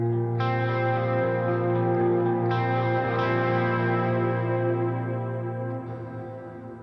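Guitar played through a shimmer reverb effect, as used for a particular tone: sustained chords with a bright, octave-up wash that swells and rings out, slowly fading at the end.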